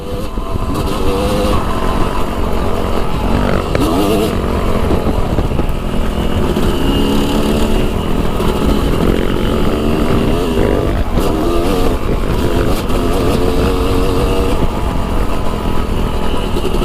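A freshly built MX Revival dirt bike engine revs hard and continuously as it is ridden, the two-stroke-style buzz rising and falling with throttle, loud and close throughout with no talk.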